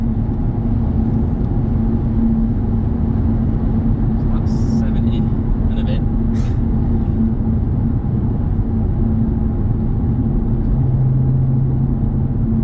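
Steady interior road and engine hum of a car cruising at about 70 mph after an exhaust drone fix, an even low rumble with no booming drone, while someone talks over it.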